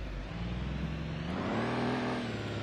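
A truck engine idles in a video game with a low, steady rumble and a slight rise in pitch partway through, with no talking over it.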